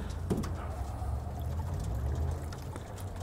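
Water poured out for a pen of quail, a soft continuous trickle and splash over low background rumble, fairly quiet and unbroken.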